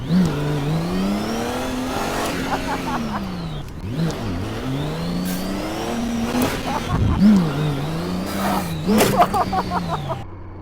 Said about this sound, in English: It does not accelerate as fast as other bikes, but it makes up for it with top speed and high speed agility